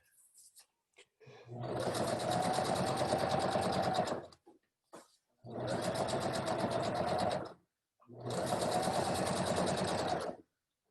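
A sewing machine stitches around the edge of a fabric stocking in three steady, continuous runs, each a few seconds long, with brief pauses and small handling clicks between them.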